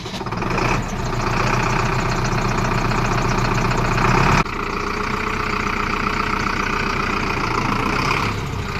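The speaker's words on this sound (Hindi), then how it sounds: "बार इस ट्रैक्टर की आवाज़ सुनते हैं।" A 75 HP 4x4 tractor's diesel engine idles loud and close, a steady deep rumble with a brief surge partway through before it settles back to an even idle.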